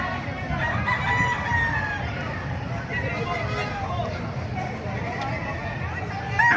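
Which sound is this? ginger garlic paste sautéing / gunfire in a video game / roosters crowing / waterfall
roosters crowing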